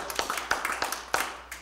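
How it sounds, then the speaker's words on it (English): A church congregation at a Wednesday service claps in a few scattered, sharp hand claps, moderately close and fairly quiet, with irregular spacing rather than a steady ovation. "Give the Lord a hand clap."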